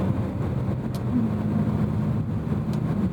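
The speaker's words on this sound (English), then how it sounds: "even driving around town, getting to play that instrument, that naturally aspirated V8, what a treat" A 2010 BMW M3 E90 with a naturally aspirated V8, driven around town: a low, steady engine drone with mild cabin rumble and no sharp revving, heard from inside the car without talk.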